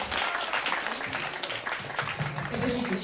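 An audience claps at a concert by a soul music project, with brisk, dense applause throughout, while voices and faint musical tones sound beneath it.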